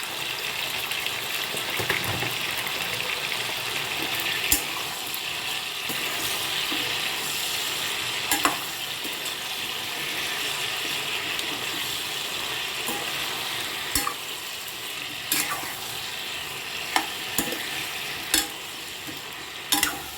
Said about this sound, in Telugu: ఇది వేగనివ్వాలి. మూత పెట్టి వేయించాలి సిమ్లో పెట్టి.